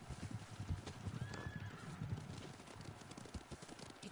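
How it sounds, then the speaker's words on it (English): Horses approaching in the video game Ghost of Tsushima: quiet hoofbeats clip-clopping at an uneven pace, with a neigh rising briefly over the trampling. "Horses, they're coming for us."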